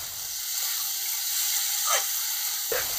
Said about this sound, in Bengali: মশলার সাথে ভালোভাবে উপকরণগুলোকে কষিয়ে নেব।